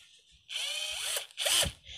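A red cordless drill bought online whirs in two short bursts of rising whine, the first about three-quarters of a second and the second briefly louder, with a quiet pause between them.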